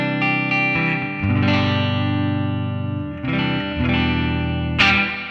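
Distorted electric guitar chords ring out through a brighter free Amplitube 5 amp tone, several sustained strums played in a row, each letting the crisp, saturated sound hang before the next.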